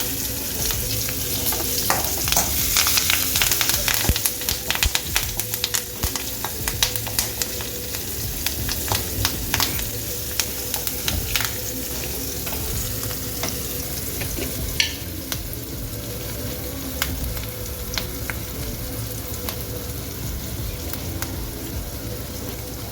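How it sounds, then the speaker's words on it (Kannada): Green chillies and curry leaves frying in hot oil for a tempering, giving a loud, continuous crackle and sizzle with stirring clatter throughout. "ಮತ್ತು ಹಸಿಮೆಣಸಿನ್ಕಾಯಿ ಕರಿಬೇವು ಎರಡು ಒಟ್ಟಿಗೆ ಹಾಕ್ತೇವೆ"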